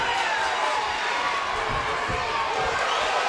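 A sold-out crowd at Caesars in Atlantic City roars steadily at a Bellator MMA fight, a constant wall of cheering and shouting with a commentator's voice faintly beneath.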